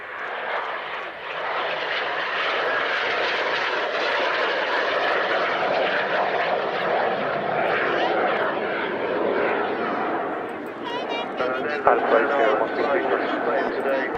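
Aircraft flying a memorial flight display, a loud sustained engine drone passing overhead with a broad roar that swells and fades slightly, with faint voices toward the end.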